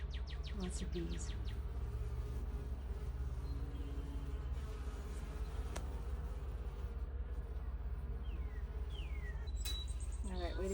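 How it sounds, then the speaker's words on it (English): Honey bees buzz around a hive entrance as foragers fly in loaded with pollen, a constant dense hum with occasional louder passes close by and faint birdsong in the background. "Lots of bees."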